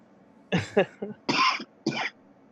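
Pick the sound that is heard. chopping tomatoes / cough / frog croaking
cough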